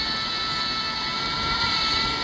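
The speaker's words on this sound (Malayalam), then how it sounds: "ഇതൊരു ട്രെയിൻ വരുന്നു" A steady, continuous rumble with a bright hiss of a train rolling by at close range in Euro Truck Simulator 2, holding an even loudness throughout.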